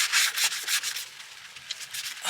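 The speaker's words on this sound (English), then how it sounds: "I think I'm going to scrape that a little bit too" Rough scraping strokes against a grimy surface inside a 1957 GMC truck, several close, rasping rubs in quick succession with brief pauses between them.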